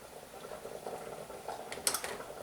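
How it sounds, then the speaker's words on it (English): Dairy-free cream soup bubbles and boils in a pot, a faint continuous simmering burble with small pops, close and alone. "bubbling and boiling."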